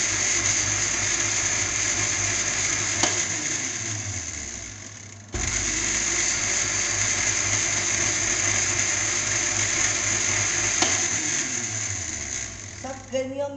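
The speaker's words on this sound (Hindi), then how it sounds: "अब इसको ब्लेंडर में ब्लेंड करेंगे" A blender blending sugar whirs loudly and continuously, briefly stopping and restarting midway, then winding down at the end with a few clatters.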